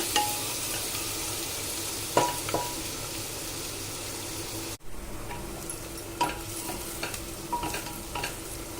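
Onions and cumin seeds frying in oil in a pan, with a continuous soft sizzle and occasional spatula scrapes against the pan, a brief dropout near the middle, and no voices.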